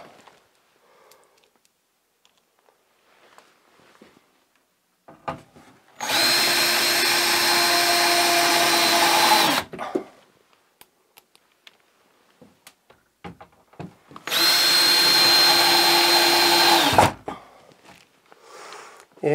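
A power drill drives screws into plywood mounted behind a Leviton circuit breaker panel, two loud sustained whirring runs of about three seconds each, separated by quiet handling noises.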